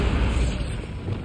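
Bombarda spell blast in Hogwarts Legacy inside a cave maze, a brief, heavy, rumbling boom that stays loud and deep throughout, with no voices.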